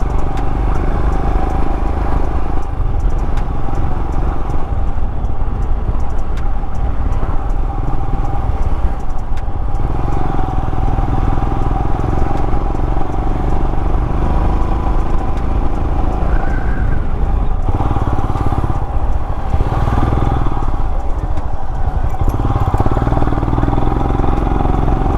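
A Royal Enfield Himalayan motorcycle climbs a hill road near Valparai, its engine droning loud and continuous with rumbling wind and road noise throughout, and no talking.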